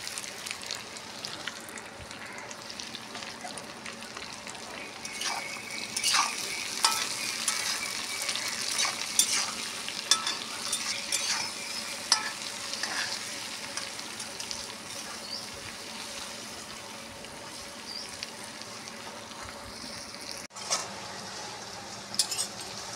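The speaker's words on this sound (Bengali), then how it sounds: "হলুদ দিয়ে একটু ভাজা করছি, তাড়াতাড়ি ভাজাটা হবে নুন দিলে।" Unripe jackfruit fries with turmeric and salt in a pan with a constant soft sizzle, broken by repeated stirring scrapes and a few metallic knocks, close and moderately loud.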